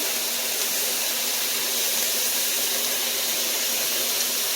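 Steady, loud hiss of steam rising from a pan while a chicken quesadilla cooks, a continuous airy spray sound without pauses and no speech over it.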